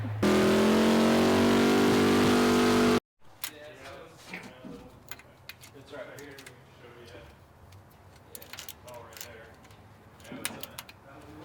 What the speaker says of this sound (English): here we go, rev limiter again